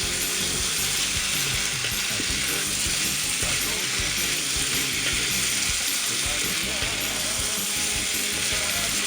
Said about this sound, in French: on va tout bien mélanger.